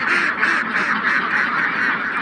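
Farm ducks, some recently sick, quack loudly and continuously as a close, dense flock, the overlapping calls filling the whole stretch with no pause.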